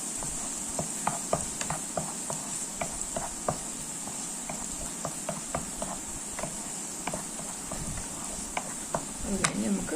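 Ginger being sautéed in a pan for a fish cutlet mixture, a steady frying sizzle with repeated spatula scrapes and taps in an irregular rhythm, close and moderately loud.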